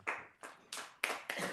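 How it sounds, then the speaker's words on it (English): Audience applause at a board meeting, five short bursts of hand clapping from a modest crowd, fairly close and moderately loud, with no talking over it. "Please hold your applause and those kind of comments."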